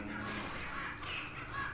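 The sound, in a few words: chickens clucking in Resident Evil 4 video game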